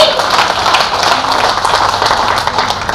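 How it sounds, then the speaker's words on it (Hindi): An audience at a Hindi comedy poetry show claps and applauds steadily, a dense continuous patter with voices mixed in underneath. "तो जरा तालियां जोर से उठाओ भाई"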